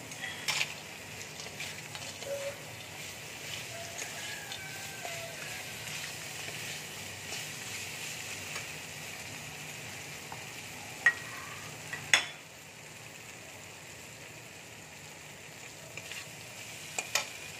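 Bori lentil dumplings frying in a pan for lau ghonto make a soft, continuous sizzle at moderate distance, with a few sharp utensil clinks near the end and no voices.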